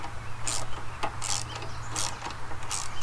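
A socket set ratchet clicks in repeated bursts, about four strokes at an even pace, while bolts are tightened on a wood chipper, close and crisp against a low steady hum.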